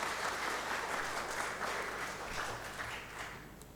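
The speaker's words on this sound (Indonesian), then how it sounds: "Kita berikan aplaus sekali lagi bagi Mas Tuhan" A church congregation applauds during a Sunday worship service after a family's hymn, steady dense clapping that fills the room from start to finish and fades slightly toward the end.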